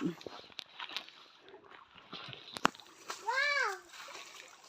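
Cold water in a mountain stream splashes in scattered bursts under close talk and a voice, with one brief sharp splash near the middle.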